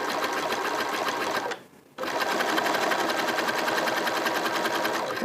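A sewing machine stitches honey bun strips into a hat, a rapid, steady mechanical whir heard up close that pauses for under half a second before running on.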